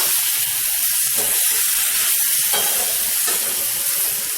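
Salted tomatoes for a tomato chutney to go with idli sauté in a pan, giving a steady, loud, hissing sizzle with faint bubbling and stirring movement throughout.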